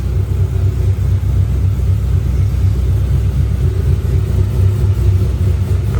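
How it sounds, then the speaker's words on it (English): A car idles after its brake lines and tires were refitted, its engine giving a steady, loud low rumble with a pulsing throb up close, unbroken for several seconds and with no talking. "You can kind of probably hear the car."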